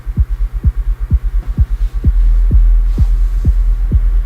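Deep tuned kick drum thumps in a steady pulse, about two per second, with LFO modulation making the low boom swell and wobble as it sustains.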